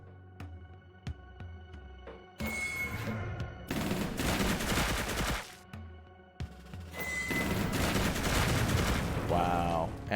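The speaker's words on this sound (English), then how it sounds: "Anti-tank missile on the way." An anti-tank missile fired in the Tactical Defense strategy game: loud, sharp launch blasts with rumbling tails, separated by quieter gaps, plus a brief rising whine near the end.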